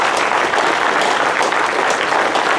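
Audience applause for the candidates at a Victoria County Republican primary debate, a steady dense wash of many hands clapping that holds at full strength throughout with no voices over it.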